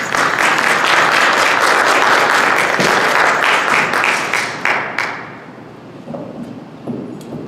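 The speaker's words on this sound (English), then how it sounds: "Please give a round of applause for Imam Kafani." An audience at a talk on imams and mental health in the Detroit Muslim community breaks into loud, dense applause that holds steady for several seconds, then thins out into scattered claps and fades.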